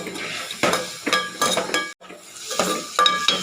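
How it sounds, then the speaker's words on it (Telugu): Tomato pieces fry over a high flame in a pan, sizzling in short bursts as a utensil stirs and scrapes in a quick uneven rhythm, close and fairly soft. "తర్వాత హై ఫ్లేమ్లో పెట్టుకొని టమాటా ముక్కలు బాగా ఫ్రై చేసుకోవాలండి."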